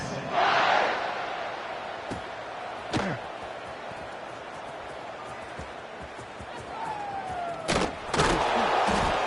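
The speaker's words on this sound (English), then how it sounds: "this crowd is buzzing after that last score" A football stadium crowd buzzes after a score in a Texas regular-season game, a broad distant roar with a few louder swells, while a commentator talks over it.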